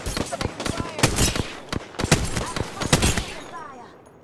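Rapid bursts of Apex Legends gunfire crack close and loud in a dense, overlapping volley, then thin out and fade in the last moments.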